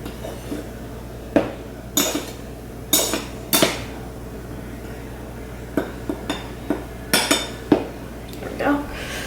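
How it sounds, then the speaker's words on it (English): A butter knife scrapes and taps across a measuring cup while leveling an ingredient for sourdough pizza dough, giving a series of sharp metallic clinks and scrapes spaced irregularly, close and fairly clear over a low background hum. "I usually use a butter knife to level it out for me"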